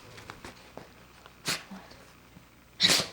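A sneeze from a cartoon character, a sudden broadband burst near the end of a quiet stretch, with a smaller burst about a second and a half earlier under faint background noise.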